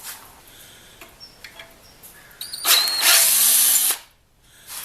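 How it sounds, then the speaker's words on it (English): A power drill bores out a damaged threaded hole in a die-cast aluminum part from a 5 hp outboard motor to take a helicoil insert, giving one loud, close whine of about a second after a few quiet clicks and handling noises. "So I need to drill this out, tap it, and put a helicoil in it."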